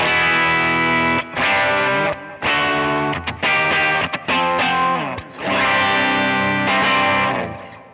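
Distorted electric guitar played through a Kemper profiler amp profile, loud sustained chords in bursts, with short pauses between phrases and a thick, effected amp tone.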